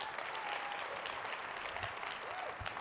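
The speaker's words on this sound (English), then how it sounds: "let's give another round of applause to Oscar Duran" Continuous applause from a conference audience at a young professionals summit closing session for a speaker, a broad dense wash of clapping, moderately distant and steady.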